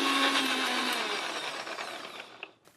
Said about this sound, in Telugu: మిక్సీ పట్టేద్దాం.